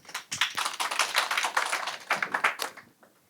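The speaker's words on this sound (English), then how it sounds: "A round of applause, please." Audience applause at a UN High-Level Political Forum 2025 side event: a steady, dense patter of many hands clapping for about three seconds before it fades quickly to quiet.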